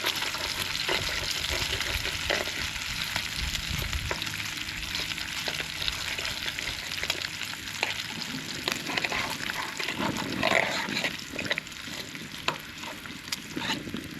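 Bacon frying in a pan outdoors on a windy morning, a steady loud sizzle with crackles and occasional stirring scrapes, close by and heard alone.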